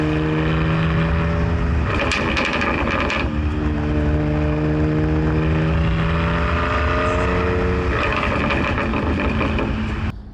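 BMW M4 Competition exhaust on throttle lift-off at low speed in second gear, a loud droning engine tone broken by bursts of crackles and pops from the exhaust, with no talk.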